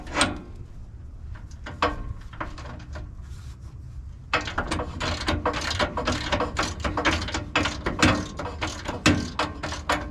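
A socket wrench with a deep socket on a long engine bolt of a 2005 Silverado ratchets steadily, with a few short bursts and then continuous close clicking that fills the clip.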